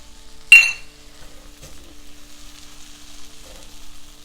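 Chili, coriander and cumin powders hit a hot pan of butter chicken sauce with a sudden loud sizzling burst that settles into a soft, steady hiss, with a faint clink of utensils; no talking.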